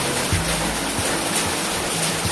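Strong floodwater rushes in a loud, continuous roar of broadband noise with a low rumble beneath, filling the whole stretch without a pause and with no voices.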